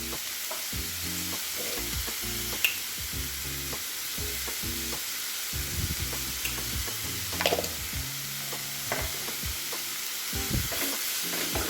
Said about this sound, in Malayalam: ഇതിപ്പോൾ മീഡിയം ഫ്ലെയിമിലാണ് ഞാനത് വഴറ്റിക്കൊണ്ടിരിക്കുന്നത്.